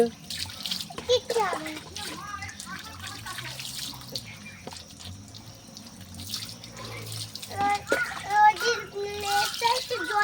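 Tap water runs and splashes while a pet is bathed at home, the flow starting and stopping in bursts under frequent talk from an adult and a child.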